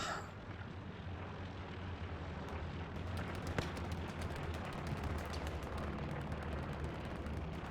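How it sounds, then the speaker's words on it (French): Aircraft engines, including a reconnaissance plane, drone steadily overhead in the video game Hell Let Loose, a broad continuous roar with faint crackling gunfire-like bursts mixed in, no voices. "on a des avions qui passent"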